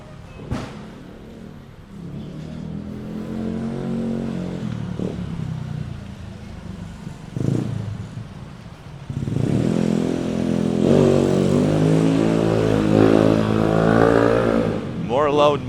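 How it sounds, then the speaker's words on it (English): Loud-muffled vehicles roll past on a busy Saturday-night street in Mactan Newtown, their engines swelling near and fading, with a heavier, louder pass building through the second half and voices talking in the background. "More loud mufflers."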